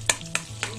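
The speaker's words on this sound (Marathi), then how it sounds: "ह्यात आपण टाकलेलं आहे थोडं गार्लिक बटर आणि ते आता आपण यात मिक्स करून घेऊया" Garlic butter is stirred in a hot pan of oil, giving three quick scraping strokes over a soft, steady sizzle.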